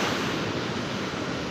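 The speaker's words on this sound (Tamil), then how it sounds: "இது வரைக்கும் தண்ணி வருதுங்க, வேவ் இது வரைக்கும் வருது" Ocean waves wash onto the beach at Pondicherry in a steady, broad roar of surf that fills the whole moment, loud and close with no talk over it.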